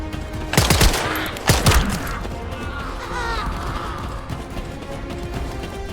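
Two sharp bursts of gunfire ring out in The First Descendant, near and loud, each followed by rattling debris, then a lower, steady din of combat with no voices.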